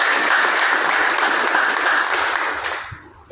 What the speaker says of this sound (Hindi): दमदार तालियां हो जानी चाहिए